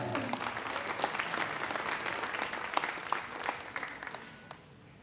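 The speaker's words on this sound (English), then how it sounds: "Let's give these young kids a nice round of applause." Audience applause at a steer show, heavyweight steer class judging, sustained clapping from a sizeable crowd that holds steady and then tapers off toward the end.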